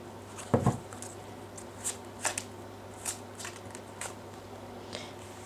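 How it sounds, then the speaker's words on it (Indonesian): Tarot cards being shuffled by hand in a quiet room: a burst of riffling near the start, then soft, sporadic card slaps and rustles spaced about a second apart, close and fairly quiet, with no talking. "terutama ketika aku shuffle kartu ini"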